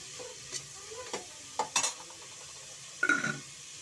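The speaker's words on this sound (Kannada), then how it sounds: "ಈರುಳ್ಳಿ ಚೆನ್ನಾಗಿ ಫ್ರೈ ಆಗಿದೆ" Onions frying in a pan for mushroom ghee rice, a faint soft sizzle broken by a few spatula scrapes and light metallic clinks, quiet and close with no talking.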